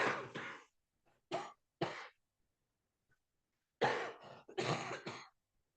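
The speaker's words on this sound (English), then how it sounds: "I've had this cough" A person with a lingering cough, heard up close in a quiet room: a few separate harsh coughs and throat clearings, then a louder cluster of coughs after a short pause.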